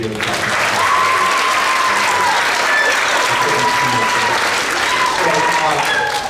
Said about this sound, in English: One more big round of applause for them.